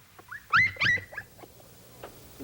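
Wolf cub, a young animal mistaken for a dog, giving a few high whimpering yelps near the mic, the loudest pair in the first second, followed by softer scattered squeaks.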